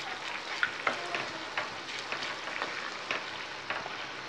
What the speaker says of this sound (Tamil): உள்ளே போட்டு அதுவும் நல்லா சேர்ந்து கொஞ்சம் நேரம் கிண்டி விட்டுக்கிட்டே இருங்க